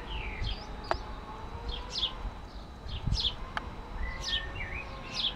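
Birds chirp and tweet in short bursts at a moderate distance from inside a hedge, repeated calls over a soft outdoor background hum.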